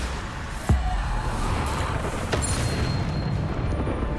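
Bombarda blasting spell detonating in a Harry Potter video game: one sharp boom followed by a second softer burst over dense, continuous noise from the game.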